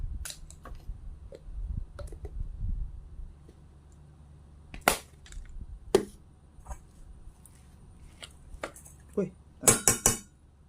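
Corn fritter batter is stirred in a bowl, giving a scattering of sharp clinks and scrapes of utensil on the bowl, with a quick cluster of clatters near the end, while someone talks quietly.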